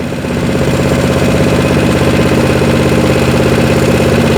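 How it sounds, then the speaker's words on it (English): A Harbor Freight Predator gasoline engine on a wood chipper idles steadily and loudly, a constant low rumble with a fast rhythmic chug throughout, no voices. "This is a very strong Harbor Freight Predator engine."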